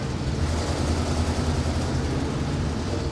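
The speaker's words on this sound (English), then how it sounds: "Listen to that old 460 purr" An old fire truck's 460 engine runs steadily and close, a dense low rumble with a constant loudness from start to finish and no talking over it.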